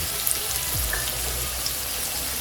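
Curry leaves hit a generous pool of hot oil for a black chickpea and radish kara kuzhambu, giving a constant close, crackling sizzle with no voices over it.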